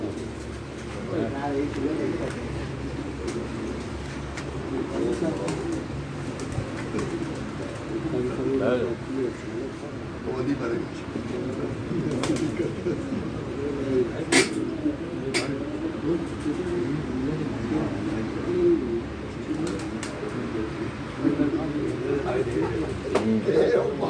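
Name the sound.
Teddy pigeons cooing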